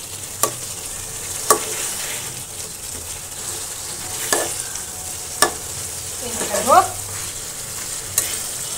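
Beef tripe sautés with spices in a pan, crackling in a continuous sizzle, while a spatula scrapes and stirs in sharp, evenly spaced strokes; nobody speaks.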